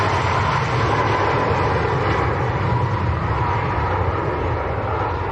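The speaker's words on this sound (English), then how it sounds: "This is the Ryanair to Rhodes" A Ryanair jet airliner at Manchester Airport produces a steady, moderately loud engine roar that holds evenly from start to end, with no talk.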